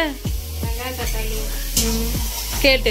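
Onions sauté in a pan while crab fry is being cooked, with a steady sizzle broken by several sharp scraping stirs of a utensil against the pan, and no talking.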